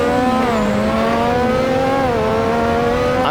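Lotus 98T race car from Assetto Corsa, its 1,000-plus horsepower engine screaming loud and close onboard on a street circuit at Adelaide, holding a steady high whine with slight pitch dips through a chicane.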